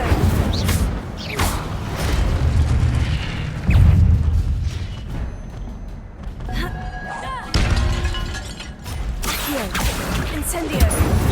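Repeated fiery spell blasts from Hogwarts Legacy gameplay, with booming thumps and crackling bursts recurring several times over a dense game soundscape, with speech mixed in.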